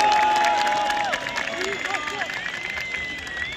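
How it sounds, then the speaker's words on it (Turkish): Crowd applause and cheering at Samsunspor's Süper Lig promotion celebration for club president Yüksel Yıldırım, a sustained wash of clapping and crowd noise with voices over it. "Alkışlar Yüksel Yıldırım için."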